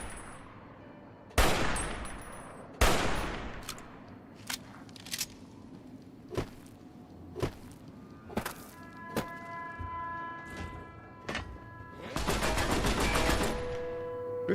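Gunfire in Fallout New Vegas Lonesome Road, a string of sharp separate shots fired at irregular intervals, some loud and near, others softer, ending in a dense burst, with no talk over it.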